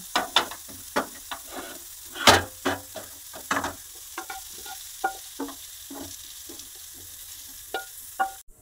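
Vegetables fry in a pan while a spatula stirs them in repeated scraping strokes, each stroke a crisp clatter over a low, steady sizzle, close by, with no voices.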